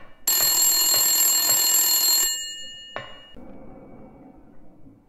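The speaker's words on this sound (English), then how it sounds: "The phone is ringing." A telephone ringing in the horror game Silent Scream, one loud sustained bright electric bell ring that cuts off abruptly, followed by a single sharp metallic ping and a faint low room tone.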